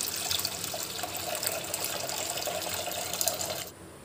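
Full cream milk poured from a height into a cooking pot holding a little water, a steady close liquid splash running for nearly four seconds before stopping abruptly.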